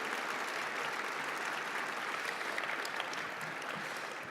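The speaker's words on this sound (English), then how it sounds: "Ladies and gentlemen, please give an applause and a welcome to our students this morning." Audience applause at a school opening-day student panel, a steady dense clapping from a large crowd lasting the whole few seconds, even in level with no voices over it.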